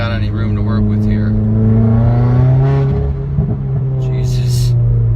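Straight-piped 2015 Subaru WRX Stage 2+ pulling hard at full throttle, a loud, rising engine drone that builds and holds, then eases with a brief blow-off valve burst near the end.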